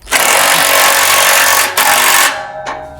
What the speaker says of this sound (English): You want to use your 3/4 inch wrench and socket.